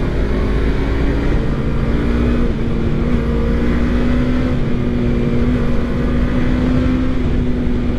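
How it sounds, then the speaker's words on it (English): A 2023 Suzuki GSX250R motorcycle engine holds a loud, steady, high-revving drone on a test ride, the tone shifting slightly as revs rise, up close with wind noise and no talk. "You really have to rev this bike out to get it going anywhere."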